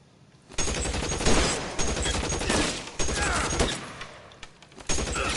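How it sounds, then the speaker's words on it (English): Bursts of gunfire in a PS4 shooter game, with rapid fusillades and machine-gun style volleys that rise and fall over several seconds, loud and close. "Who's shooting at me?"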